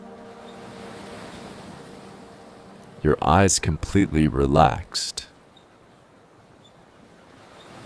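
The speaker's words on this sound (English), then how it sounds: "Now allow the sound of the waves to wash through your entire body." Ocean waves in a guided relaxation track, a soft steady wash of surf running the whole length, with a calm voice speaking over the middle.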